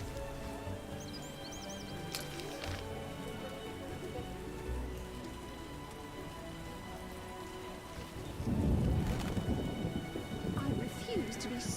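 Heavy rain pours steadily in a video game while thunder rumbles and swells loudly in the second half, the storm noise continuous and close.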